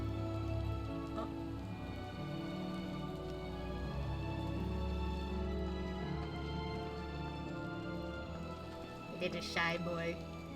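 Steady rain falling in Final Fantasy XIV, a continuous hiss of drops on surfaces under game music and sound effects, with a brief sharper burst near the end.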